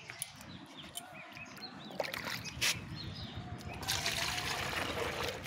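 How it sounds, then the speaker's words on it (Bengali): Water is poured into a bucket holding a basket set up for sowing coriander seeds, making a faint, close trickling and gentle splashing that grows steadier and louder toward the end. "তো আমি এটাকে জল দিয়ে দেবো এখন।"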